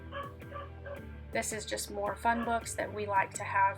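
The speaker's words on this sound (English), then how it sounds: "I apologize if you guys can hear my dog barking." A dog indoors in a home barks and yips repeatedly in quick bursts, fairly close, while a person talks over it.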